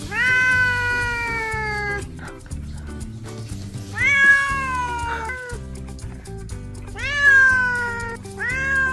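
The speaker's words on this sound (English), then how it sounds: "This is my sister's cat going to the vet for her rabies shot." A pet cat meows repeatedly on the way to the vet for a rabies shot, with loud drawn-out cries in three or four bursts over a steady low rumble, probably a car.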